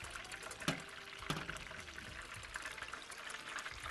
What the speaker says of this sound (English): I like to add malt vinegar right in there